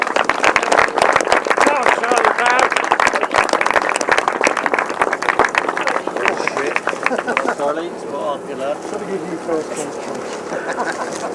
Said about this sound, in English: I'm sure he deserves a round of applause